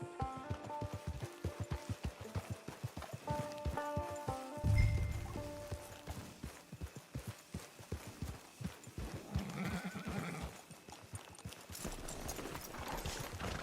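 Horse hooves clip-clop steadily in Red Dead Online as a rider approaches a camp, moderately close, with game music and ambient sounds layered underneath.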